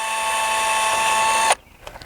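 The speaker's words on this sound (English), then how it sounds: "when you're drilling it." A power drill whirs at a steady high pitch for about a second and a half while drilling Trex railing, then cuts off, leaving faint clicks.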